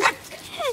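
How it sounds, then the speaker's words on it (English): A short, close bark or yip from a dog, followed by a brief high whine. "that's why she barking"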